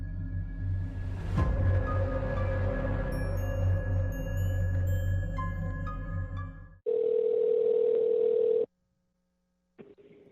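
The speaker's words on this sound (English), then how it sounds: "that's why she got a call from one of them on her cell phone" A phone call on a cell phone rings through, with a steady telephone tone, a sharp click, then beeping rings and pauses.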